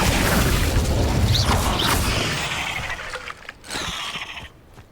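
Incendio fire spell cast in the Hogwarts Legacy video game, a loud whooshing burst of flame with crashing impacts that fades out over a few seconds.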